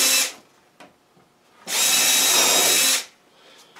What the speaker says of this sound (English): May as well put one there too, since I have the drill.